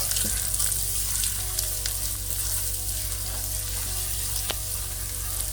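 Ground spices, dry mango powder, garam masala and salt sizzle steadily in hot oil in a pan, with faint scraping as they are stirred; a continuous close frying hiss with no talking.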